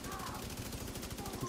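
Rapid, steady gunfire fills a six-man raid in a video game. The shots run as a continuous fast rattle over game sounds, with voices talking at the same time.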